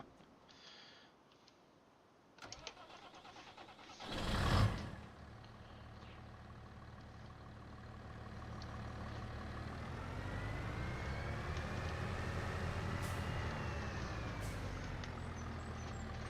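A tractor engine starts in the Farming Simulator 25 game, a sharp burst of cranking followed by a steady, rising diesel rumble that settles into a loud, continuous drone, with no talk over it.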